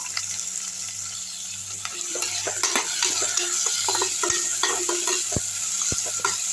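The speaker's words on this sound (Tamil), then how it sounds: "வெங்காயம் நல்லா வதங்கிட்டோம் இதுலேயே பச்சை மிளகா மூணு பச்சை மிளகா போட்டிருக்கேன் கருவேப்பிலை போட்டிருக்கேன் மூணுமே சேர்த்து நல்லா வதங்கிட்டு இருக்கோம்" Onions, three green chilies and curry leaves sauté in a pan for a meatless hotel-style fish curry, a steady close sizzle with frequent stirring scrapes and light clinks of the spoon against the pan, no talking.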